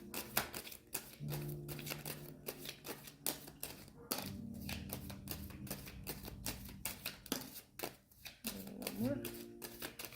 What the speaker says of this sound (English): I'm going to pull 3 cards from the Romance Angels